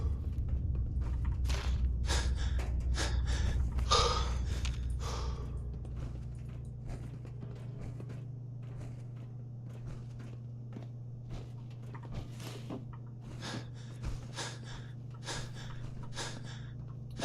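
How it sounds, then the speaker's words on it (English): Heavy breathing from an overburdened character in Fallout 4, repeated gasping and sighing breaths over a steady low hum, with soft steps and clicks scattered throughout. "Gonna hear a lot of heavy breathing from my character in this"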